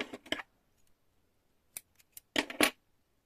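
Scissors cut yarn for a pompom, with a few crisp close snips: two quick ones at the start, then a single snip and a final cluster of sharp cuts against quiet.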